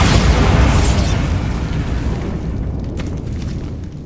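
The Bombarda blasting spell in the video game Hogwarts Legacy goes off as a loud, close booming explosion with a heavy rumbling body that slowly decays into scattered debris crackles.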